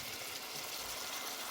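Plantain dough cooks in palm oil over medium heat, giving a steady soft sizzle and crackle of frying, faint and continuous with no voices.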